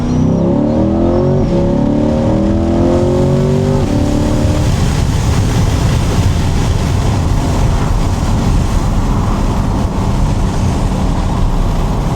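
A Chevrolet C8 Corvette's engine revs up loudly after a downshift to second gear, the rising tone climbing in steps before settling into a sustained roar with strong wind and road noise on an open-top ride along backroads.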